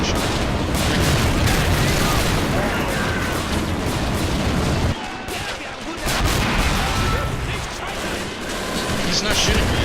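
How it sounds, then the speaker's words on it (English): Flak gun and machine gun fire in a Men of War Assault Squad 2 battle, a dense, continuous roar of gunfire and booms with a brief lull midway before the barrage resumes. "The flak over there shooting and the MG gunner"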